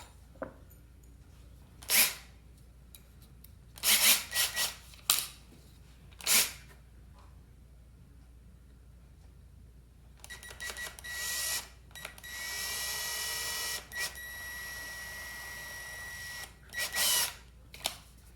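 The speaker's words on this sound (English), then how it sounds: "I'm also going to drill it with a small drill to start with." Several short bursts of a small drill spin up and stop, separated by quiet, followed by a longer steady whine of drilling into a rifle stock and a couple more brief bursts.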